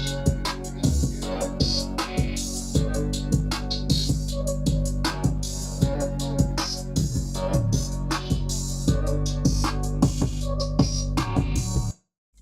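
Hip-hop beat loop of low audio quality, with steady hard drums, heavy low end and a repeating melody, loud and continuous, no voices, stopping abruptly at the end.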